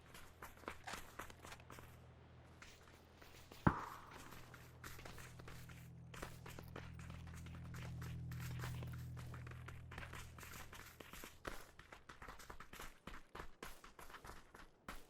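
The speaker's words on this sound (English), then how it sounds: "I think Ave Mill will have heard the footsteps by now" Footsteps in the battle-royale game PUBG patter in a quick, even rhythm, soft and fairly close, continuing throughout with one sharp click early on and a low rumble swelling in the middle.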